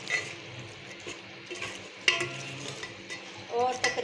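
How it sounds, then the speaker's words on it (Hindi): White chickpeas being stirred into a frying masala in a pan, with soft scraping stir strokes over a low sizzle, close and fairly quiet, a few sharper utensil knocks near the end. "ये देखिए इसमें हम मिक्सअप करते हैं"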